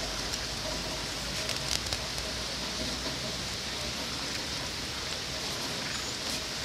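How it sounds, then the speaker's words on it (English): Steady, dense hiss of rain falling, a constant broadband wash with no pauses, fairly close and even in level throughout. "And it's raining."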